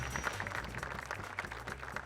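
An audience applauds to welcome a singer onto a car show stage, a steady patter of clapping that carries on through the whole moment at moderate volume.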